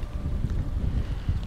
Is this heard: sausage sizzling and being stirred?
no